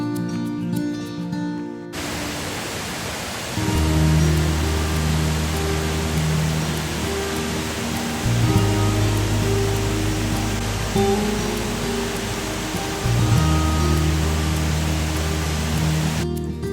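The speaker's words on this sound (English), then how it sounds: "a serene 25-foot cascade, perfect for photos or just listening to the water." Water pours over a 25-foot waterfall cascade in the Delaware Water Gap National Recreation Area, a continuous broad rushing hiss that stays steady throughout, mixed with sustained background music.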